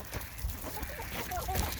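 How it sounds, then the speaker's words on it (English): A group of backyard hens cluck softly nearby, short murmuring calls scattered over low background noise as the flock heads in for the night. "It's the chicken posse!"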